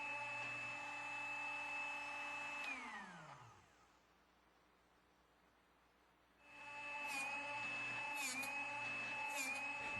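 A Drill Doctor 350X drill bit sharpener hums steadily, winds down to near silence, then spins back up, with brief high grinding touches as a small bit contacts the sharpening wheel.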